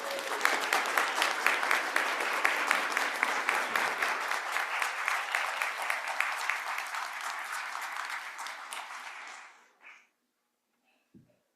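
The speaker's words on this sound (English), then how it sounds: "put our hands together in appreciation" Church congregation applauding new members during a worship service, a steady wash of many hands clapping for about nine seconds before fading out abruptly, followed by near silence.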